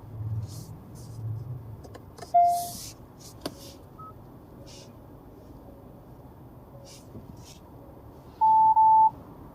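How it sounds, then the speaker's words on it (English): Cross traffic alert on a Hyundai Ioniq 6 sounding a few short electronic beeps: a brief tone near the middle, then a louder sustained double beep near the end over low, quiet cabin rumble. "That, by the way, was the cross traffic alert system"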